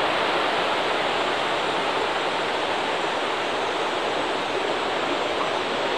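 Water pouring over a dam on the Humber River in Raymore Park, a loud, unbroken rushing roar that stays steady and dense from start to finish, with no voices.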